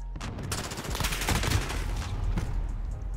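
MP5 submachine gun fire in the shooter game Modern Warfare during a bomb-defuse round, loud dense bursts of rapid automatic shots that continue almost without a break.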